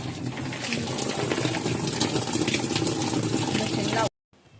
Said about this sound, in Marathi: आता मशीन चालू करून घेतो. पाणी पण हाय चालू.